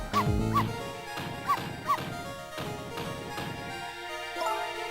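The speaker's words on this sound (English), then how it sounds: "No, Missile, you're not supposed to bark" A small dog barks repeatedly in Ghost Trick, a run of sharp yips spaced about half a second apart, with a faint whimper near the end.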